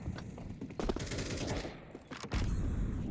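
Several bursts of gunfire crackle from a Counter-Strike match, in sharp clustered volleys of shots with brief pauses between them, over steady game ambience.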